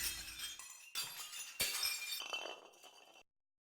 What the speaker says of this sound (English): the sound of glass shattering filled the room